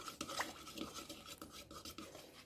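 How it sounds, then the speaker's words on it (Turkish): Egg yolk lightly stirred in a bowl, quiet scraping and clinking of a utensil against the bowl in quick irregular strokes, close and faint. "Şöyle hafif bir karıştırdıktan sonra"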